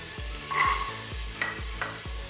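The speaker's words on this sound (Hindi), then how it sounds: "अब हम इसमें डालेंगे प्याज, साथ ही हम इसमें डालेंगे मटर" Onion and peas sizzling in a hot pan with cumin and asafoetida, stirred with a spoon in a steady rhythm of about five strokes over a constant frying hiss, close and alone.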